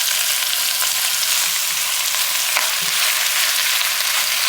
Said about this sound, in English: I'm going to take all my butternut squash and I'm going to add it in here with the vegetables